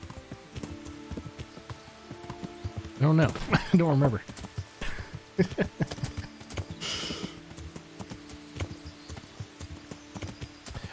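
Horse hooves clip-clopping in the medieval video game Kingdom Come: Deliverance, a quick rhythmic gait under a man's chatter and a brief whinny, with scattered game sounds around it.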